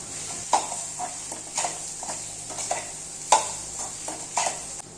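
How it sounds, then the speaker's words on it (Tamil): Egg stirred into onions and green chilies frying in a pan, with steady sizzling under repeated scraping stir strokes and occasional spoon knocks against the pan, close and moderately loud. "இந்த ஸ்டேஜில் நம்ம ஆல்ரெடி தனியாக எடுத்து வச்சுருக்க எக்கையும் இதில் ஆட் பண்ணி நல்லா எல்லாத்தையும் சேர்த்து ஒன்றா"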